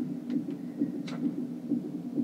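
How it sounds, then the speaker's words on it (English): A pulsing heartbeat from the video game Little Nightmares throbs in a steady, low rhythm of about two beats per second, with faint higher rustles above it and no talking. "Heartbeat noises."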